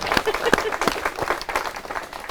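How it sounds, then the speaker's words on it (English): Wedding guests clap for the newly married couple at the ceremony, with brisk, uneven applause that is moderately close and mixed with talking. "Give them a big round of applause."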